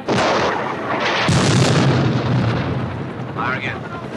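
Army rockets fire in a western town scene from the 1980 film Superman II, loud booming blasts and roaring whooshes layered with shouted voices and film score.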